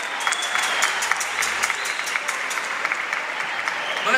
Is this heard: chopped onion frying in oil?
no